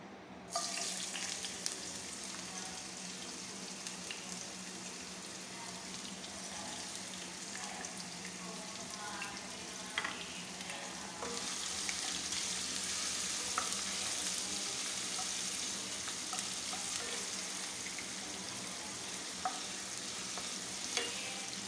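Ginger sizzles in a pan for a sautéed green mung bean dish, a soft, steady frying hiss close by with occasional stirring clicks, growing slightly louder halfway through.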